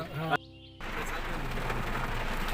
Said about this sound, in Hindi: बारिश बहुत हो रही है, रुकने का नाम ही नहीं ले रही।